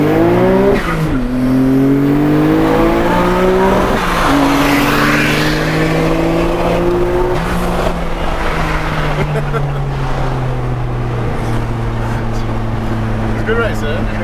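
An R34 Nissan Skyline GTR V-Spec II racing a Porsche, the engines loud and close as they rev through rising gear pulls with repeated shifts, roaring continuously while people talk over them.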